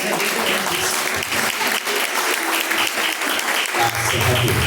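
A church congregation claps in praise during a live service, a thick, sustained wash of many hands at fairly loud level, with voices and a low tone rising underneath near the end.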